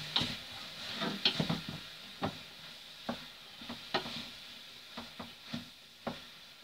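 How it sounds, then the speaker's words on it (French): A spoon stirs vegan Cantonese fried rice in a pan, giving soft scraping and tapping clicks at an uneven rhythm over a faint sizzle, close up and fairly quiet. "Il n'y a plus qu'à fermer le feu et tout mélanger."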